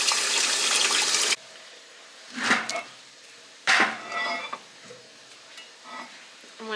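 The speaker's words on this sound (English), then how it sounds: "So we just clean the filter press with water." Water rinsing a filter press on a farm: a loud hissing spray that cuts off abruptly, followed by a few shorter splashing bursts and drips, with no talk.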